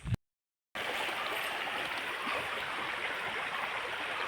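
A river stream flows steadily as cattle stand at its bank, a constant close rushing of water that continues unbroken after a short silent gap at the start.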